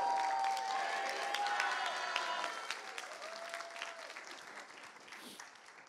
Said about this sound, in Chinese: 掌声鼓励，给他们一个呼喊声